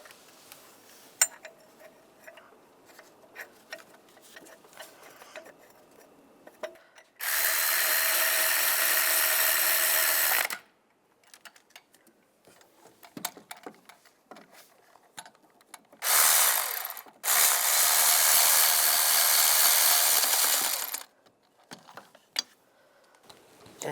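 A power tool and ratchet work on timing belt bolts of a 1999-2005 Volkswagen Jetta, two long loud bursts of tool whirring, separated by quieter clicks and clinks of hand work nearby.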